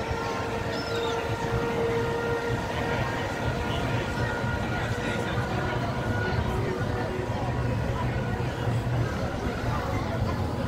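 A tram car rolls along the Wildwood boardwalk, giving a steady, loud low rumble with a faint tonal whine over it and outdoor crowd noise throughout.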